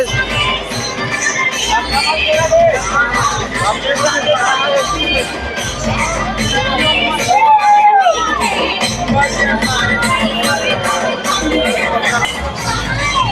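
A large, dense crowd of moviegoers packs the grounds of a cinema hall in Raipur during a festival screening, with loud continuous babble, shouting and children's voices filling the air, steady and close throughout.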